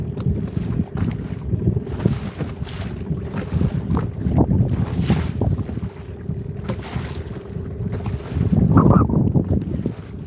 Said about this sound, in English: I know y'all hear that wind. It's whipping.